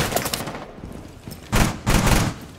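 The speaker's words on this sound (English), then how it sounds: "My window there was shot out and they're shooting through it." Gunfire in Rainbow Six Siege during a hostage match on Coastline, rapid bursts of shots with two dense loud volleys in the second half, close and punchy.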